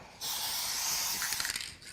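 A spray can releases one continuous, close hiss lasting well over a second, with light clicks near the end.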